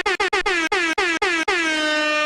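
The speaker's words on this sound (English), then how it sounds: "I can blast you with air horns all day long" A loud air horn blasts in a rapid series of short bursts, then holds one long sustained blare that fades out.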